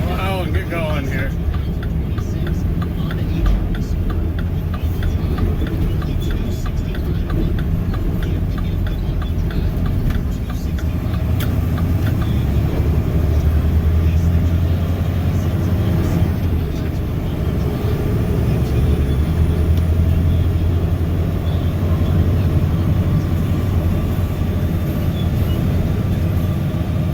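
Snowplow truck engine rumbling steadily while driving along a road early in the morning, a constant low drone close to the cab, with a person talking over it.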